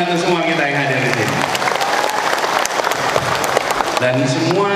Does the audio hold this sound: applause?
yes